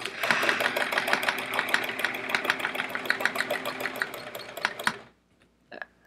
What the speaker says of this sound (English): Free motion quilting